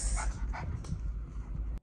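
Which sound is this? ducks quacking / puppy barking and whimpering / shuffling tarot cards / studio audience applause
puppy barking and whimpering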